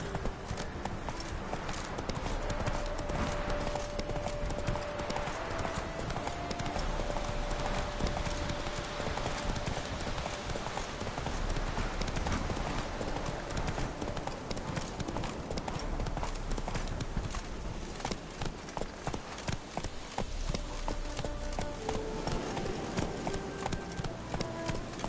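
Horse galloping in the video game The Witcher 3, with rapid continuous clip-clop hoofbeats and dense game sound throughout, loud and sustained for the whole stretch.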